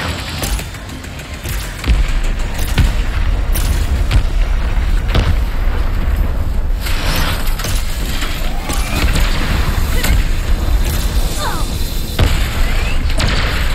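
Warmonger weapon fire in Ratchet and Clank Rift Apart, with repeated booming explosions and mechanical clanks over constant loud game noise, and voices heard throughout.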